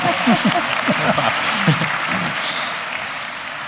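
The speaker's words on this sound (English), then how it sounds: "please give Josh a clap" Audience applause at a live debate on fossil fuels, a loud burst of clapping from a crowd that swells and then thins out over a few seconds, with some voices mixed in.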